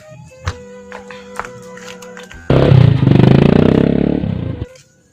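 A motorcycle engine bursts into a loud, sustained rev for about two seconds after scattered clatter and taps, then cuts off.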